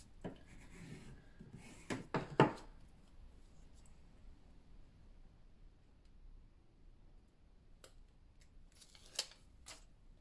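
Scissors cut paper for a mini album cover frame in a few quiet, crisp snips close by, a short cluster early on, then a long hush before a couple more cuts near the end.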